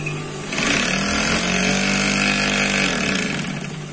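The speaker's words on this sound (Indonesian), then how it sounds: "kita cek pergerakan dari mesin jahit milik saya pribadi" A personally owned used sewing machine runs in a steady, loud mechanical whir with a rapid needle rhythm, starting softly and then holding an even drone for several seconds with no talk.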